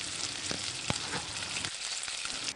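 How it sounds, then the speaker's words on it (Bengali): A spoonful of ginger-garlic paste fries in a pan after cumin seeds, a loud close sizzle with a few quick stirring knocks over a couple of seconds. "দিয়ে দিচ্ছি এক চামচ আদা ও রসুনের বাটা দিয়ে এক মিনিট ভেজে নিচ্ছি"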